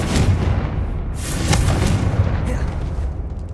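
A Confringo fire spell explosion in the Hogwarts Legacy video game, a loud, close, booming blast with a deep rumbling body and sharp crackling bursts layered on top, continuing for several seconds.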